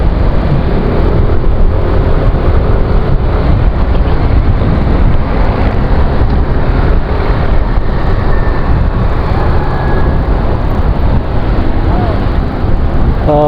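Dense road traffic in Pasay rumbles continuously, with loud engine drone, wind buffeting and passing vehicles blending into a steady close roar, and faint horn-like tones briefly rising above it.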